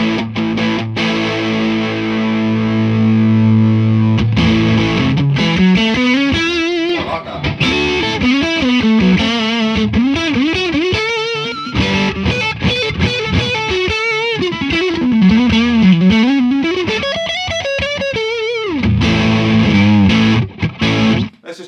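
Electric guitar through a Seymour Duncan Palladium overdrive pedal with the bass turned down plays a distorted riff with bent notes and sustained chords, loud and close, without talking.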